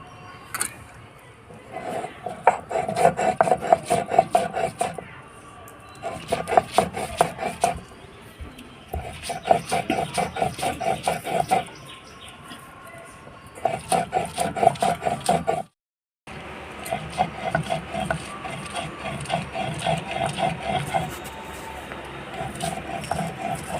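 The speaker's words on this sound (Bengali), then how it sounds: "আমরা মটর ডালটা ভিজিয়ে রেখেছিলাম এবার শিলে বেটে নেব" Soaked matar dal being ground by hand on a sil grinding stone, with repeated rhythmic scraping and grinding strokes in bursts separated by short pauses, close and moderately loud.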